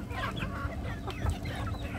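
Several chickens cluck and chatter close by in a morning farmyard among ducks, short irregular calls overlapping against a low background rumble.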